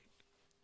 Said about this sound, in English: When you did the cough.